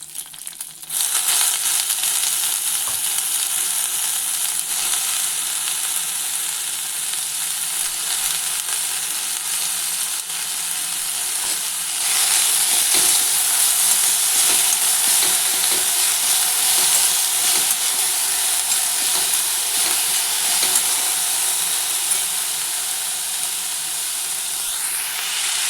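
Onions frying in hot oil in a pan for a Kerala cabbage carrot thoran, a steady, dense sizzle that runs unbroken and close, swelling slightly louder partway through, with no voices.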